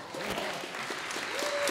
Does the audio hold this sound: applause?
yes